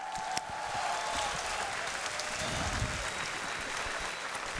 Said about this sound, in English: big round of applause to both Naura and IriS.